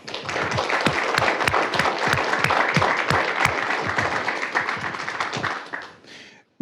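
A round of applause at a city council meeting for honoured staff, a room of people clapping steadily with a few sharp, close individual claps standing out, then tapering off and ending abruptly.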